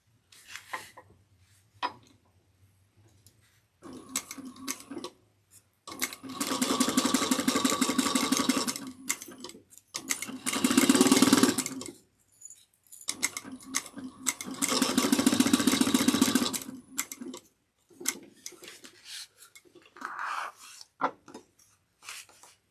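Sewing machine basting fabric at a 1/8 inch seam allowance for a bag, running in several sustained bursts of steady mechanical whirring separated by short pauses and handling noises.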